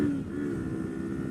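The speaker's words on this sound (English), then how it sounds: "on low revs, it chugs along like a usual dirt bike" A Kawasaki Versys-X 300 adventure touring motorcycle chugs along at low revs, a brief, fairly faint steady engine drone with a low throbbing pulse.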